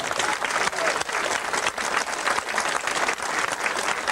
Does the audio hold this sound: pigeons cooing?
no